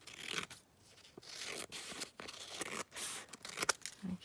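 Scissors snipping through decorative paper while trimming the bottom edge of a handmade Christmas journal, made up of a string of short, close, crisp cuts and rustles. No one speaks.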